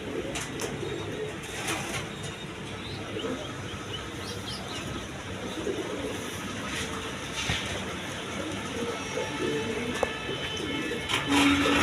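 A pair of pigeons, a male and a female, coo softly alongside other birdsong around a pigeon loft, with a steady background hum throughout.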